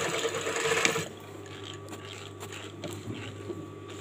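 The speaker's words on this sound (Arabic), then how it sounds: "ونخيط جوانب هذا الحزام" A sewing machine stitching the sides of a belt for a qandoura, whirring loudly for about a second and then continuing as quieter mechanical clicks and rattles.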